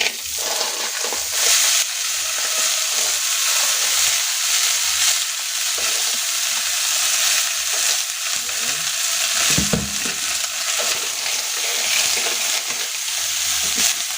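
Snails sizzle and fry steadily in a hot pan while being cooked for coconut-milk snail stew, a dense, continuous crackling hiss with occasional stirring clatter, close and loud with no talk.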